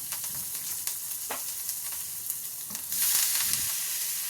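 Drained raw banana pieces hit a hot pan with oil, producing a steady close sizzle with small clatters as they land, and the frying hiss swells louder near the end.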